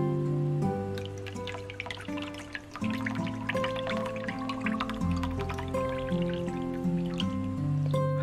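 Liquor pours from a Watts skittle hip flask into a small sake cup with a close, bright glugging and trickling sound, with uneven gurgles and drips and rising tones as the cup fills.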